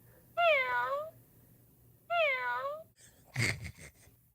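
A recorded cat meow played from a puzzle toy, two clear drawn-out meows in a row followed by a short rustle or clatter, close and loud.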